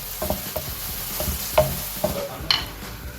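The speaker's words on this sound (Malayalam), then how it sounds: "തീ ഓഫ് ആക്കിയാൽ ഇളക്കി കൊടുക്കണം അല്ലേ?" Raisins fried in ghee are stirred around a pan for ghee rice, the heat switched off, giving a soft ongoing sizzle broken by several distinct scraping clinks of the spoon against the pan, close and clear with no talking.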